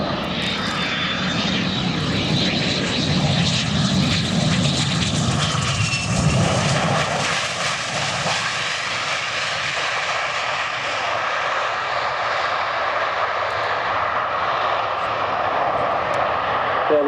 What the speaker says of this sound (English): That's a big, heavy jet, and that is a very, very impressive landing roll indeed.